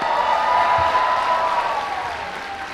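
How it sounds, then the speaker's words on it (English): Graduates and guests at a college commencement applaud in a large hall, a broad wash of clapping and faint cheers with a steady tone running underneath, gradually easing off over a few seconds. "Give her another round of applause."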